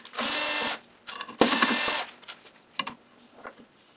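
Screws are driven into pre-drilled MDF with a power driver in two bursts of steady whirring, each about half a second long, followed by lighter clicks and taps, close and fairly quiet.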